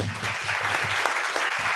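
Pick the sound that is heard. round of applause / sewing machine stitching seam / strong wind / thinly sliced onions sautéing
round of applause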